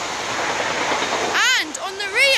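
A British Rail Class 43 diesel train rushes past close by with a broad roar, then a voice breaks in over the fading rail noise.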